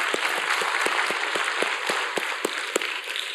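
A church congregation claps steadily for a few seconds, a dense, even patter of many hands with a faint background hum.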